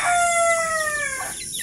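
Chickens on a backyard breeding farm, with a rooster's drawn-out crow and hen clucking close and loud, a single call lasting about a second and a half with no talk.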